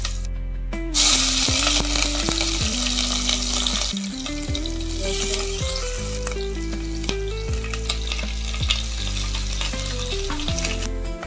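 Mustard seeds, cumin and curry leaves sizzle and crackle loudly in hot oil in a pan for a cabbage dish, with a sudden burst as they hit the oil and steady frying throughout.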